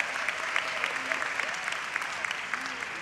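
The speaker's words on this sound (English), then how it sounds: "Let's give him a round of applause for everything that he's done." Audience applause at a dual enrollment recognition ceremony, honoring Dr. Rogers: a steady, dense wash of many hands clapping with some louder individual claps, sustained throughout at moderate distance with faint background voices.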